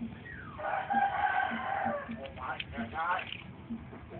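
A chicken being handled gives short, agitated clucks and squawks while someone talks over it, with faint rustling in the background.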